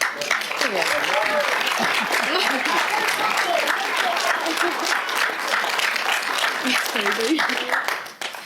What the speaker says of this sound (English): We usually get a bit finger waggly about applause in this council chamber